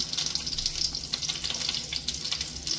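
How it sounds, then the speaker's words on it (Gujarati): Sliced onions frying in melted butter in a pan for a creamy pasta, a steady close crackling sizzle with light stirring scrapes, no voices. "તો આપણું બટર ઓગળી ગયું છે તો તેમાં આપણે હવે આ રીતે લાંબી સ્લાઇસમાં કટ કરેલી ડુંગળી નાખી દઈશું"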